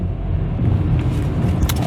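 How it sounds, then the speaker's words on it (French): Inside a moving car, a loud, steady low road and engine rumble fills the space continuously, close and unbroken, with no talking. "si t'entends un peu de bruit juste derrière, en fait c'est parce que je suis en voiture ce matin"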